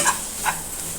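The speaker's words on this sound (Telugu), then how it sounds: "ఇదంతా బాగా మిక్స్ చేసుకోవాలన్నమాట." A spoon scrapes and stirs carrot rice with sambar powder in a pan, making a brief soft scraping with a light sizzle underneath, close and steady.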